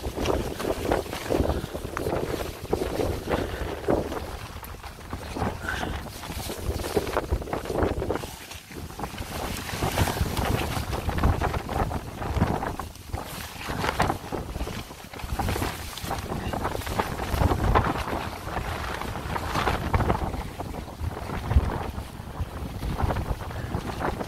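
Extreme storm wind batters a tent on a mountain, a loud, gusting, continuous roar with buffeting surges and flapping, heard alone for the whole stretch.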